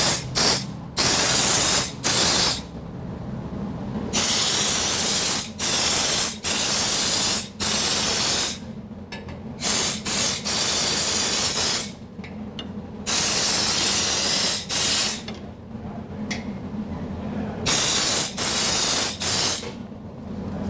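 Undercoating spray applied to a car's underside in short trigger bursts, loud hissing blasts close by, repeated over a dozen times with brief quiet gaps between them.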